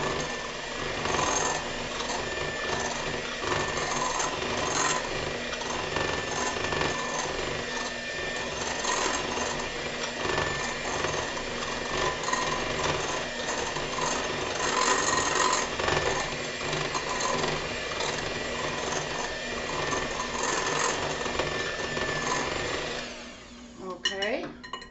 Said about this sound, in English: we're going to mix that in really good with our sugar and butter